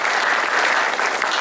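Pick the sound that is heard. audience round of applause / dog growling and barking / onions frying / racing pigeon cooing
audience round of applause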